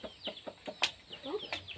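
A chicken clucks repeatedly in short, choppy bursts, close by, with a few higher squawks mixed in.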